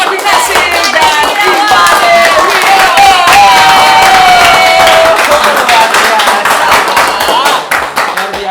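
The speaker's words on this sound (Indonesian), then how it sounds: "Berikan tepuk tangan yang paling meriah" A talk-show studio audience claps and cheers loudly for two football players, a dense, sustained wash of applause with music playing over it throughout.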